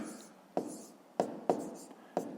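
Pen strokes writing numbers by hand during a fifth-grade decimal math exercise, four or five short, soft taps and scratches spaced apart over quiet room tone.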